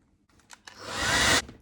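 Hair dryer drying copper metallic paint on a glass jar: a couple of soft clicks, then one short, close blast of blowing air lasting under a second.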